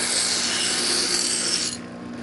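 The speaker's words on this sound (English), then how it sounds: "all we're going to do is just clean it up a little with" A grinder smoothing the edges of cut stained glass gives a steady, close, gritty whirring rasp that holds evenly for about two seconds, then eases slightly at the end, with no voices.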